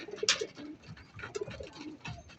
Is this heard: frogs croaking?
no